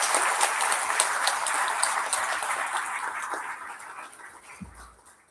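Audience applause at a company's annual day celebration, a dense steady clapping from a large crowd that gradually fades out over several seconds.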